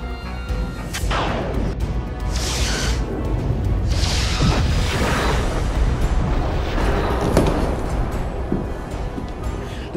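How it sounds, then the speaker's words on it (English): Starship weapons fire and explosions from a Star Trek fan production, with heavy crashing blasts and sweeping bursts layered over a constant low rumble, loud and continuous with no speech. "Battlecruisers are opening fire."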